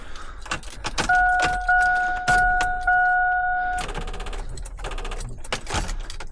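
A set of car keys jingles and clinks in bursts right up close, over a steady two-tone electronic chime from a parked car during power steering repair work.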